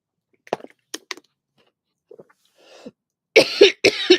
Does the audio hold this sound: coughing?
yes